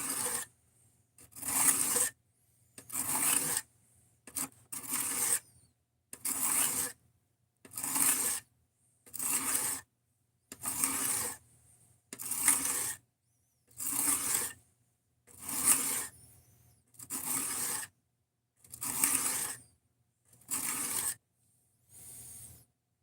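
Belt grinder working a bevel into a cheap Amazon knife's factory grind, heard as repeated rasping passes of about a second each, separated by short pauses, steady and close, with no talk.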